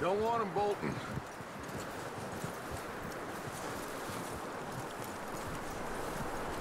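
Horse hooves clip-clop at a walk in the Red Dead Redemption 2 video game, a soft irregular plodding under wind and outdoor ambience, with a brief voice at the start.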